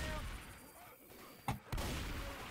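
Two quick bursts of AK rifle gunfire cut through in the video game Left 4 Dead 2, over a low, quiet game background.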